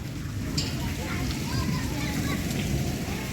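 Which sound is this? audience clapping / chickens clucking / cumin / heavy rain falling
heavy rain falling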